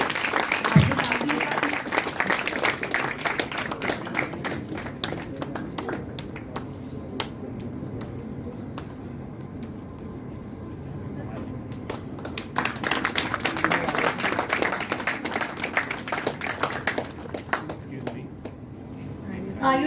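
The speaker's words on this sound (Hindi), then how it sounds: "देखिए, तालियां बजाते रहिए और उत्साह वर्धन करिए।" An audience claps at a blessing ceremony with Swami Prabuddhananda Saraswati Ji, a steady patter of hands that eases off midway and swells again, heard beneath a voice on a loudspeaker.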